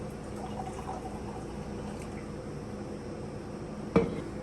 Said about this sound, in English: All right, Vanessa, could you please pour in our hypotonic solution of water?